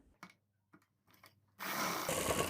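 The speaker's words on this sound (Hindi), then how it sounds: "यानी निशान पे हमें सिलाई लगा देना है" Sewing machine stitching a suit along a marked line, a dense steady run of needle noise starting partway in after a few soft handling clicks and continuing loudly to the end.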